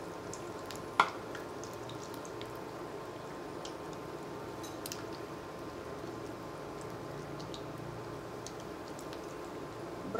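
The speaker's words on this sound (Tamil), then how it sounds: "ப்ரெட் ரோல் நல்லா ஃப்ரை ஆகட்டும்." Bread rolls stuffed with paneer fry in hot oil, giving a faint, steady sizzle with scattered light pops and crackles throughout, one sharper tap near the start.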